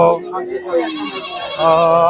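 Goats bleat up close at a livestock market in Bangladesh, wavering, quavering cries mixed in with a person talking nearby.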